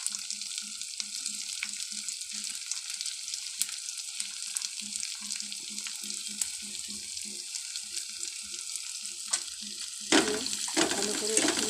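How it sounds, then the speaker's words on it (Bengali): Chopped onion sizzles steadily in hot oil in a home kitchen, a continuous bright frying hiss with soft, repeated clinks from a utensil, ending in a louder splashing clatter. "তেলের মধ্যে পেঁয়াজ কুচিটা দিয়ে দিয়েছি।"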